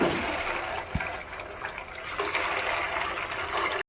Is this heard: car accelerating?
no